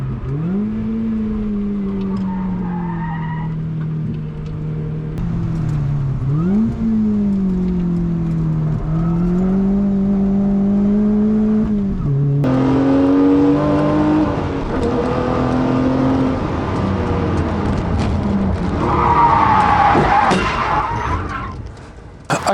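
A sports car, a Lotus Elise or a Toyota 86, is driven on a track, its engine droning and rising and falling through the gears from inside the car, growing louder and harsher toward the end.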